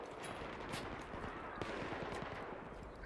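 Rapid gunfire in Battlefield 3 on the Caspian Border map: dense bursts of automatic weapons mixed with single sharp shots, steady and loud throughout with no speech over it.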